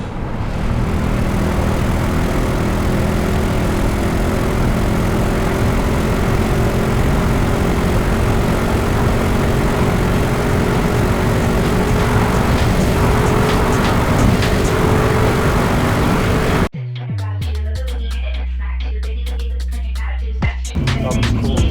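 An Audi S4 pulls hard along a motorway, its engine a loud, steady drone with road and wind roar for about seventeen seconds, then a sudden switch to a quieter, different scene with low rumble.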